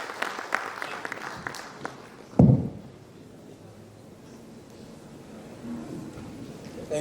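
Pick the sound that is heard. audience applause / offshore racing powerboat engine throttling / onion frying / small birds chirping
audience applause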